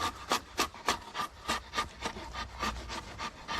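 Draw knife shaving wood on a bodger's shave horse: rhythmic, close scraping strokes about three per second, each a short rasping swipe, steady and alone with no talk.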